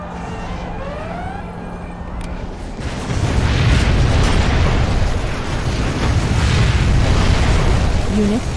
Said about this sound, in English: Warning, a nuclear missile has been launched.